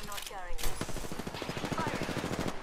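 Gunfire in Apex Legends during a firefight, a rapid stream of shots under excited talk from players.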